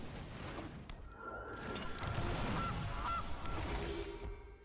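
The Gilded Goose card in the MTG Arena video game sets off a honking goose sound effect amid dense, layered game noise with rumbling booms, holding fairly steady for several seconds.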